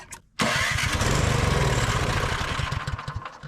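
A small Craftsman MTD snow blower engine sputters and catches, then runs loud and steady with a rough, chugging idle after a brief quiet moment.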